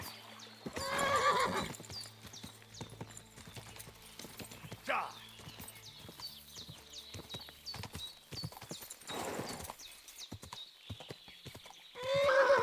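A horse in a medieval video game clip-clops along with rapid irregular hoofbeats, giving several loud whinnies and neighs near the start, middle and end, while someone shouts over it.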